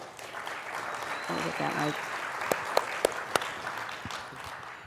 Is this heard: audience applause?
yes